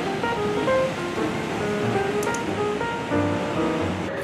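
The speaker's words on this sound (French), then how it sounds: "des vagues du Pacifique qui viennent frapper les piliers du pier en bois" Pacific Ocean waves rolling in against the wooden pilings of Santa Monica Pier in California, a continuous surging wash of surf with a faint background murmur, moderately loud.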